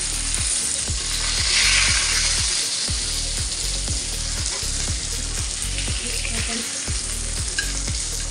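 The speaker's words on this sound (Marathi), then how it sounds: "दुसरी साईड पण आपल्याला चांगली अशी खरपूस फ्राय करून घ्यायची आहे" Pomfret frying in plenty of oil in a pan gives a steady, close sizzle and crackle. A regular ticking runs underneath throughout.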